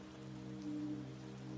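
Steady rain falls as a soft, even hiss with a low hum beneath it, calm background ambience for a bedtime story about villagers sheltering under a great tree.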